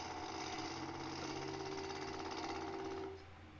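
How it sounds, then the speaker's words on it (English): A wood lathe turning a small natural-edge crotch-wood bowl as a light bevel-riding cut runs from the base out to the rim, giving a steady, loud, continuous motor whine and buzzing tool chatter that tails off near the end, with no talk. "I'm making a bevel riding cut from the base of the bowl out to the rim"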